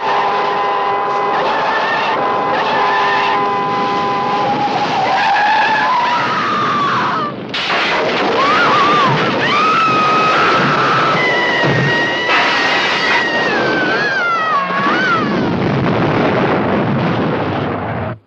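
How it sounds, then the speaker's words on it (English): A car crash effect: a vehicle skids and screeches, tumbling over and over, glancing off a boulder and slamming into a large oak. There is loud continuous tire squeal and crunching impacts, with no talk, across the whole stretch. "It sped on, turned over and over as it struck, glancingly against a boulder, righted itself, and hurtled directly at a large oak."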